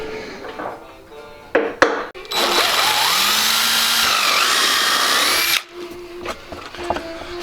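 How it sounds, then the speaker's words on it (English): A power drill bores a hole in plastic on a C8 Corvette for a sensor, with a loud steady high whine for about three seconds, framed by a few knocks and handling clatter before and after. "we're going to go ahead and drill a hole there so we can pop this sensor off"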